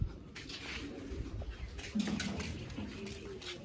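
Pigeons coo softly in short, low warbling phrases amid faint rustling and shuffling, the birds fairly close but quiet.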